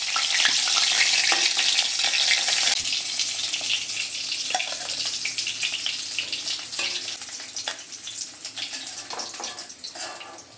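Shol fish (snakehead) frying in hot oil, a strong sizzle at first that eases into softer crackling and occasional clinks and scrapes as pieces are lifted from the pan, no speech.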